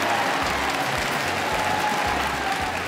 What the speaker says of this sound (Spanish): podéis levantaros, aplaudir y montar bulla